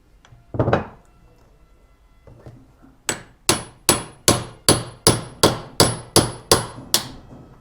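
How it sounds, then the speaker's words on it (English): A hammer strikes an aluminum part on a Yamaha XT660Z motorcycle: one sharp blow, a pause, then a rapid, even run of about ten loud, ringing metallic hits, close up with no talk. "The most important tool, the hammer."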